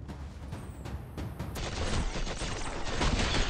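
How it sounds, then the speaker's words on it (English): Rapid hip-fired gunshots in the Destiny shooter video game, a steady dense burst of repeated cracks that grows louder and thicker after a few isolated shots. "I just shot that guy while aiming"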